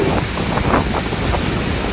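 Dense spray from Niagara Falls pouring down like rain, a loud, constant roar and hiss with wind buffeting the microphone, no voices.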